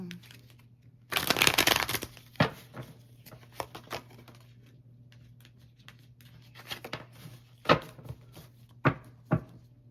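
Tarot cards are shuffled in a quick riffling burst, then handled with scattered soft taps and flicks as they are laid down, close and fairly quiet.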